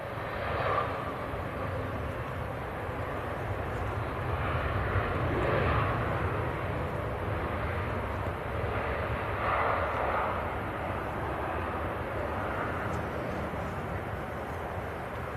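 An EasyJet airliner from Reykjavik approaches Manchester Airport, a steady, moderately loud jet engine drone with gentle swells, heard alone without talk.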